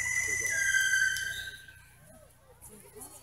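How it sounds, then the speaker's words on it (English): A small whistling firework shell goes off at an outdoor display, a high steady whistle that rises slightly and holds for over a second before fading, with faint crowd noise beneath. "Now, that one's a small one. You'll see some bigger whistles in some of the bigger shells."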